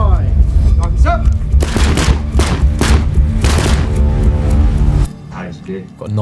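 Rifle rounds fired at pop-up targets during a Royal Marines commando training exercise, two shots per exposure, heard as a series of sharp cracks and booms through a TV broadcast, with continuous low rumble beneath and voices talking over it.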